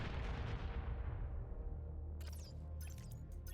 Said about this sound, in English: They're bombing all of our stuff